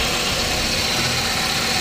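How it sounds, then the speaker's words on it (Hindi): Car engine with its silencer intact, running smoothly at idle with a steady, close, even hum and no audible starting crank. "स्टार्ट करते हैं गाड़ी को, और कितना साइलेंट इंजन है अभी"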